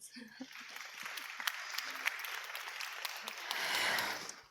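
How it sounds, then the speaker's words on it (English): A conference audience on Baltic regional development claps at moderate volume for several seconds, the scattered hand claps swelling toward the end, heard at some distance. "Let's welcome them by applauding."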